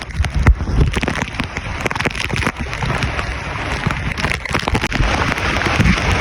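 Heavy typhoon rain pounds surfaces in Bicol during Typhoon Uwan, a dense, steady roar with gusting wind and scattered sharp drops and knocks, loud and continuous throughout.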